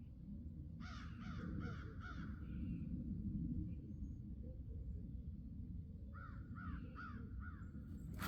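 A crow caws in the distance, first a run of about three harsh calls, then after a pause another run of four, all faint over a low steady outdoor rumble.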